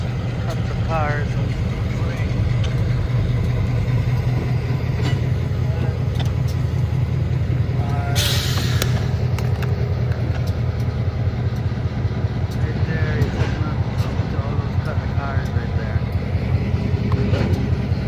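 Hamilton Northwestern Railroad locomotive backing up to cars while switching at the Keystone co-op, a steady low diesel rumble throughout, with a brief hiss of air midway and faint voices over it.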